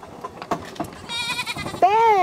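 Goats bleating at sundown while eating rolls thrown to them, with chickens and dogs nearby; a few short soft bleats lead into a louder, drawn-out quavering bleat close by at the end.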